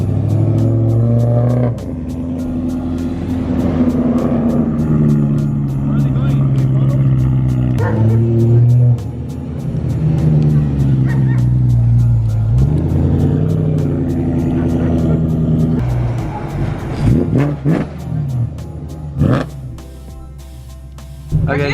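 A BMW M3 with a fresh white wrap pulling away on its first drive, engine droning and rising through gears with a loud interior hum, while people talk excitedly over it.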